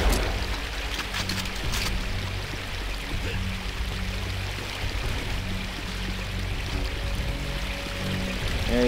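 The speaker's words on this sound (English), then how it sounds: "It's a waterfall." Loud, constant rushing and splashing of a waterfall in the video game Unreal Gold, a steady broadband roar that fills the whole stretch with no talking.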